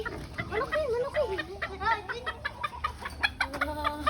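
Chickens cluck and squawk in short repeated bursts near the microphone, with a steady low hum and some background noise throughout.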